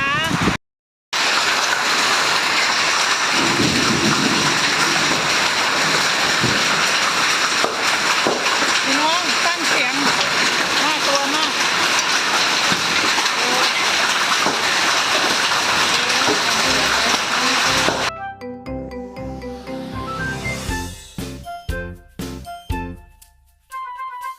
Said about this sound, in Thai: This is a big hailstorm